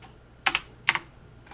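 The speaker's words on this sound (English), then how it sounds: "So I'm going to type in Beguiled" Keys tapped on a computer keyboard to type a search, two crisp clusters of clicks about half a second apart, close and distinct against a quiet background hum.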